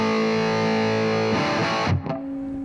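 A heavily distorted electric guitar through a distortion pedal holds a buzzing sustained chord, then a scratchy strum and a short muted hit, loud and up close.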